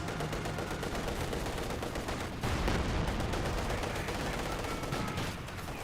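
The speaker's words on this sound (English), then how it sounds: "MG34 firing away, pins down" MG34 machine gun firing in the World War II strategy game Company of Heroes 2: dense, continuous automatic fire layered with battle noise, loud and unbroken throughout.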